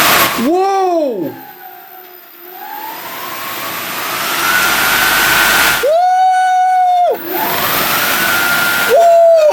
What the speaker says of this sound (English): The rear motor is spinning backwards